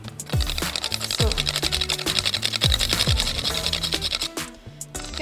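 Fresh nutmeg rubbed against a grater for homemade granola bars, a fast rhythmic scraping close by that runs steadily, with some low knocks under it, and ends with a few final strokes.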